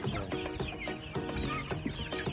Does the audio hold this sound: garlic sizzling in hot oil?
no